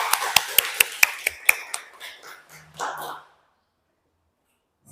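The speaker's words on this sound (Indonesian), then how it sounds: "Tepuk tangan dulu dong." A small group at a primary school claps hands, several sharp, evenly spaced claps close by that quickly scatter into a few looser ones and then stop, leaving silence.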